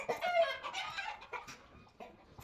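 Chickens cluck and murmur continuously at close range, a busy overlapping chorus of short calls from a small group of hens and a cockerel.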